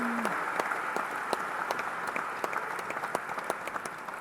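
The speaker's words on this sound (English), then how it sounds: "How about a round of applause for those two people?" A concert hall audience at Symphony Hall in Boston applauding during an award presentation, a continuous, even roar of many hands clapping at a fairly soft level with no talking over it.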